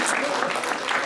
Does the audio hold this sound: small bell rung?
no